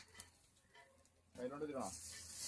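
Chicken hits hot spiced onion masala and a loud, bright sizzle bursts up after a quiet start, continuing steadily while a voice speaks over the frying.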